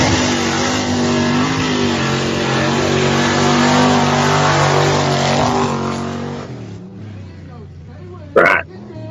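A racing truck engine roars loudly and continuously as it swings through turns, with a brief sharp noise near the end as the roar drops away; people talk over it.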